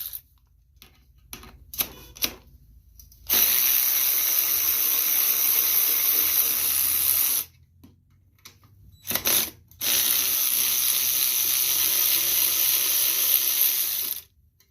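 A ratchet wrench removes 7/16 bolts from the carburetor of a Snapper rear-tine garden tiller, with a few sharp clicks followed by two long, loud bursts of rapid ratcheting close up, and no talk.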